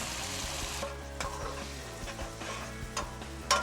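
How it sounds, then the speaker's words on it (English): Ketchup garlic sauce stirred and sizzling in a hot pan, a steady close frying hiss with soft scraping stirs and a sharper clink near the end, no voices. "Stir, stir, stir, mix, mix"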